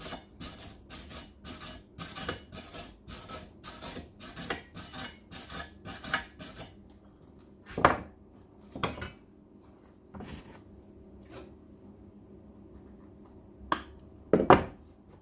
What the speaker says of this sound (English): cleaning up the gunk off the weld is very important, otherwise you end up with inclusions in your weld